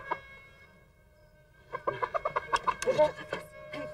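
Chickens clucking in a film scene, a burst of rapid, closely spaced clucks rising after a quieter start, near and fairly loud, with a voice talking in the background.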